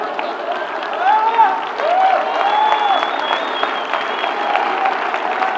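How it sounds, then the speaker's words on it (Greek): A crowd at a large conference event breaks into sustained applause, a steady wash of many hands clapping for several seconds while a voice sings or calls out over it. "Ένα χειροκρότημα."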